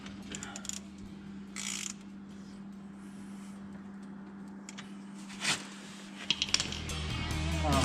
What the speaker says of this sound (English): Put that plug in there and torque it foot-pounds and call it good.